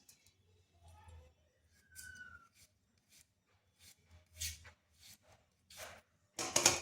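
Knife cutting a carrot, a potato and an onion into thin strips on a board at home, giving sparse, irregular quiet chops and scrapes with pauses between them, ending in a louder burst.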